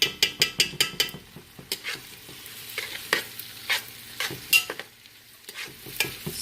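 Red sofrito frying in a pot while being stirred: a soft steady sizzle under a series of sharp spoon scrapes and clinks, quick at first then spaced out, fairly quiet and close.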